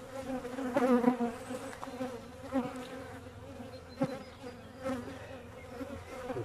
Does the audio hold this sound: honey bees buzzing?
yes